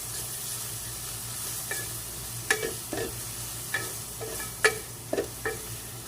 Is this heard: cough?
no